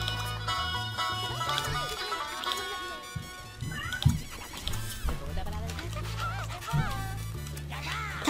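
A pet cat meowing indoors, several drawn-out, wavering meows over The Sims 2 game music, with a voice talking now and then.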